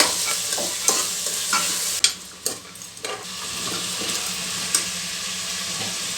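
Rajma (kidney beans) soaked eight hours are stirred in a pan of hot oil, giving a constant sizzle broken by scraping spoon strokes and a few sharp clinks, with no voices.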